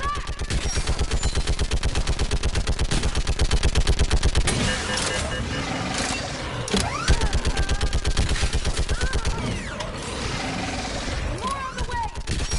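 A ship's mounted gun in Mass Effect 3 fires in long rapid bursts, a loud, relentless machine-gun rattle with a fast regular beat. Game voices and battle noise sit underneath.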